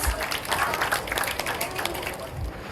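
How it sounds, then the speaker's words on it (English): An audience at a talk on children's reading breaks into a brief burst of applause, fairly close claps that soon thin out. "them a big round of applause."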